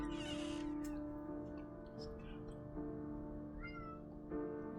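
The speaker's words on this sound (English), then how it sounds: "I don't know if you can hear the cats at the door." Cats meowing at a door in the video game Fausts Alptraum, a few short, thin meows rising over a steady background music bed, fairly quiet and close.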